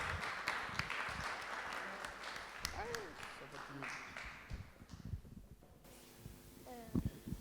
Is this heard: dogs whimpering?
no